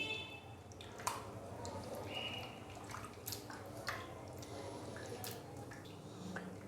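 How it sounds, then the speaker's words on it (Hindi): Raw chicken is kneaded by hand in a bowl of water with vinegar and salt, producing faint, close, irregular squelches, drips and small sloshes against a quiet background. "सिरका और नमक डालने के बाद अभी मैंने इसके अंदर पानी डाला है, तो हाथ की मदद से थोड़ा सा इसको मसल देंगे।"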